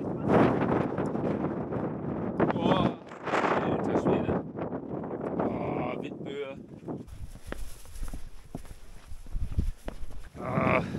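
Strong wind buffets the microphone on a cold mountain hike in the Riesengebirge, gusty low rumbling blasts interleaved with people talking, then easing to quieter rustling and crunching footsteps.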